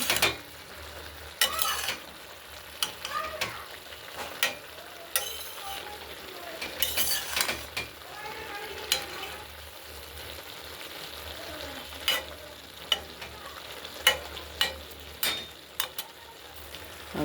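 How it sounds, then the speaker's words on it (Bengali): Spinach vegetable curry being stirred and fried in a pan, with a soft steady sizzle broken by repeated scraping strokes and light clinks of the spoon against the metal, close and fairly quiet, with no talking. "আবার ঢেকে দেবো পালং শাকটা আবার মেরে ছেড়ে দিচ্ছি জল বেরিয়েছে"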